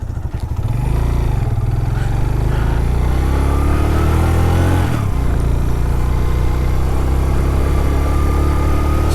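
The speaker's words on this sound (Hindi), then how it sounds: "मोटरसाइकिल का शोर बड़ा होगा" A motorcycle engine drones steadily and loudly throughout a ride toward Babusar Top in first gear, its low rumble rising slightly in pitch as it pulls, with mechanical clatter and no speech.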